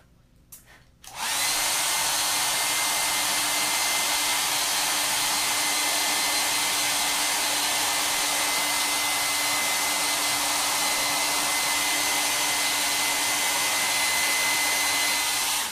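A hair dryer blasts steadily at close range to dry a chalk transfer on a Halloween sign, switching on after a second of quiet and then holding a loud, even whoosh with no speech.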